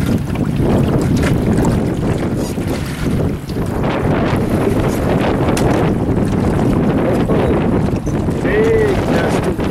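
Gusty wind roars across the microphone aboard a sailboat in an open pier area, a loud, steady buffeting rush with some water noise beneath and a voice calling out briefly.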